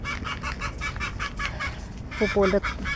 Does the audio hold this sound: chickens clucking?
yes